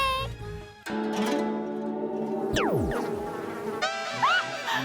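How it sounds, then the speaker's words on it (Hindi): A cartoon bee buzzes with a bright, whining tone that swoops up and down in pitch. It is loud and close, and it changes several times over a few seconds. "मधुमक्खी आ रही है।"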